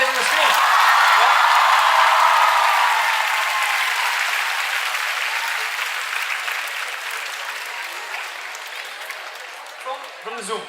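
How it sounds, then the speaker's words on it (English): Loud, sustained audience applause and crowd noise at a film promotion event, strongest at the start and slowly fading over ten seconds. "A huge round of applause for all those guys on the screen"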